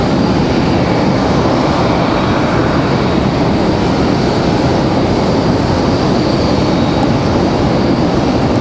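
A Frontier airliner roars down the runway on departure from Raleigh-Durham airport, a loud, steady, broadband jet rumble filling the whole span without letup.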